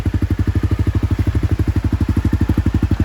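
A motorcycle engine on the Trans America Trail runs at low RPM, producing a close, steady, rapid chugging pulse with an even rhythm and no voices.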